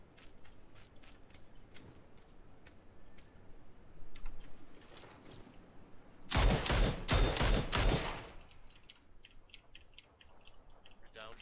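Gunfire in the PUBG video game on the Miramar map, a short loud burst of rapid close shots midway, with fainter distant pops and keyboard clicks around it.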